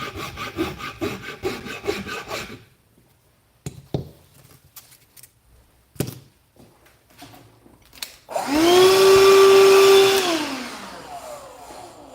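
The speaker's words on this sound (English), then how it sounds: "Interrupted by loud sounds of vacuum." A vacuum cleaner starts up loudly in a guitar workshop after scraping and sanding work on a cheap guitar, its motor whining up to a steady roar and then winding down.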